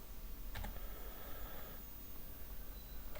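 Computer keyboard keys typed in a quick run of soft clicks, with a brief burst near the start and another at the end over low steady background hiss, no talk.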